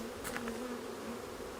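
Honey bees buzzing steadily during installation of a package of bees into a hive, a continuous close drone with no talking.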